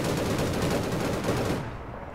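Dense, continuous gunfire from the online shooter APB Reloaded, rapid overlapping shots like a machine gun fusillade, loud and steady before thinning out near the end, with no talking.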